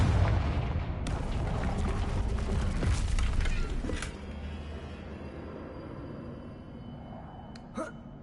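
A Confringo fire spell in Hogwarts Legacy bursts with a rumbling explosive blast that rolls for a few seconds, followed by a sharp crack and fading crackle, then quieter ambience with a few brief impacts.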